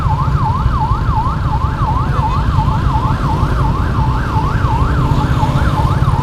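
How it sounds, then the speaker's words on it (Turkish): A loud, close ambulance siren wailing, rising and falling rapidly and steadily over the heavy rumble of engine and road noise. "Ambulans"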